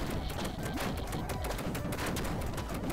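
Firecracker weapons pop in the cute roguelike Frog n Roll, a steady fizzy crackle of small, quick bursts running evenly throughout at a fairly low level.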